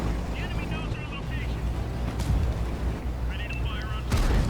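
A tank cannon shot in World of Tanks, on a city map, striking the side of a Centurion's turret and bouncing off: a sharp blast and a later impact crack over a steady low rumble of engine noise.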